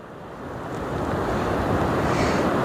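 Ocean waves at an estuary rolling in and breaking, a broad roaring wash that swells louder and stays loud, with wind buffeting the microphone.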